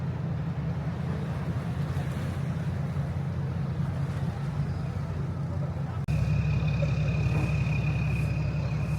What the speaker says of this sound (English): Speedboat riding, guys.